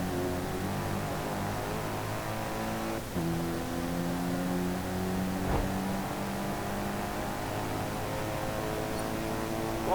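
A sedan race car engine in Forza Motorsport drones steadily under acceleration, its tone climbing through gears with brief shift dips, a bigger engine sound continuous and fairly loud for the whole stretch.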